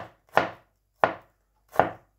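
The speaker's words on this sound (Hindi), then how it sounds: "अब हम लहसुन का जो पीस है उसे बारीक बारीक काट लेंगे।" Three separate sharp knife chops strike a cutting board as garlic is chopped finely, each one close and crisp with short gaps between, and no other sound.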